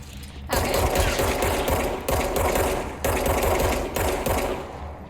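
Sustained automatic gunfire in the action video game Control, loud and continuous, coming in three long bursts separated by brief gaps, with no talk over it.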